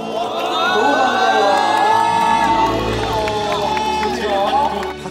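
A crowd at a street busking show cheers and whoops loudly and steadily, with shouts rising over a dense wash of voices and clapping, all fairly close.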